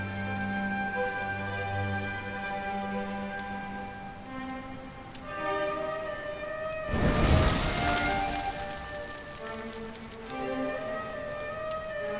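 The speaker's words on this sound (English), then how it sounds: "Looks like the rain's dying down." Rain falls in the video game Dragon Quest XI S, a steady broadband wash that swells louder midway, with game music tones playing throughout.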